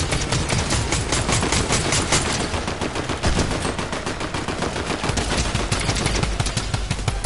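Dense, rapid gunfire from a PS4 video game, loud and continuous with overlapping bursts like automatic weapons firing throughout.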